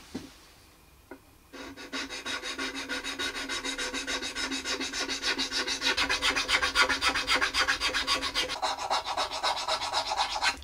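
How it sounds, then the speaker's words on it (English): A very fine file rasps over varnish on a violin in rapid, even back-and-forth strokes, close and continuous after a couple of light taps at the start. "There is a little bit of varnish that I'm going to clean up with a very fine file."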